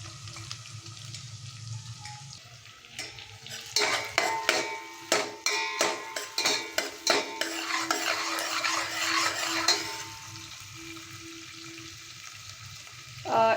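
Onions and green chillies fry in a pan while a spoon stirs and scrapes the metal in a quick run of sharp knocks, over a soft sizzle that starts quietly and fades back near the end.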